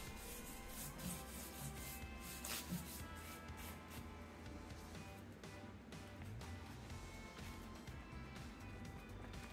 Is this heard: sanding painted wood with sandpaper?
yes